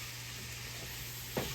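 Mushrooms cook down in a pan for a green bean casserole, giving a steady, even sizzle with no talking, and a short stirring scrape comes right near the end.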